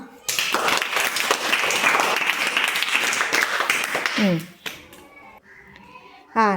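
Children in a classroom applaud a student with a dense, lively round of clapping for about four seconds, after which a voice and other young voices speak.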